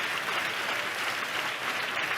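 Audience applause at a Telugu Christian church service, a steady, close wash of many hands clapping without a break for the whole short stretch.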